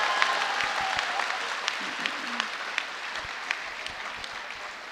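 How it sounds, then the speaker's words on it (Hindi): Audience at a political workers' meeting clapping together in a dense, even burst of applause that holds steady, heard from within the hall with a few louder individual claps standing out. "ठोको ठोको ताली ठोको,"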